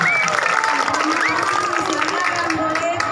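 A room of first-grade schoolchildren at a primary school orientation claps together, a steady dense patter of small hands over lively children's voices and chatter.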